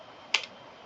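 A single sharp key click on a computer keyboard, quiet and close, heard once with no voices around it.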